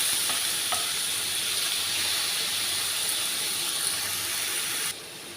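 Chicken cut into small strips frying in a pan for chicken igado, a steady close sizzle and hiss running throughout with faint stirring clicks, then dropping slightly quieter near the end.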